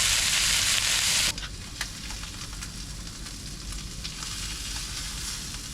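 Queenfish fries in a pan with a loud, bright sizzle that drops suddenly to a softer, steady crackle and spit, close by with no voices.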